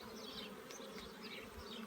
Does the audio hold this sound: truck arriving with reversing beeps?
no